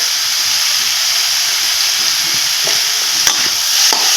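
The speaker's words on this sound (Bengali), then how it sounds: "লবণটা দিয়ে আবার একটু নাড়াচাড়া করে নিচ্ছি" Chalta pickle with chillies and a pinch of salt is stirred in a hot pan. A loud, steady hiss of sizzling oil runs throughout, with a few soft scrapes and knocks of the spatula underneath.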